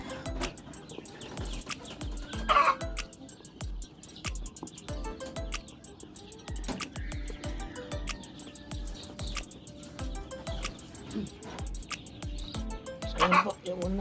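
Four-day-old Black Australorp chicks of an Italian line peep in a brooder, with scattered high chirps and tweets over a busy low background and a few louder calls standing out.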